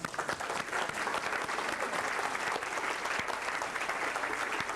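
Seminar audience gives Dean Stonier a round of applause, dense continuous clapping from a crowd filling the room at steady volume, without speech.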